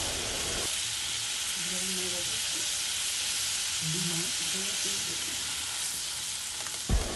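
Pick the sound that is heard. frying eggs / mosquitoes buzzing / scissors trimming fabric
frying eggs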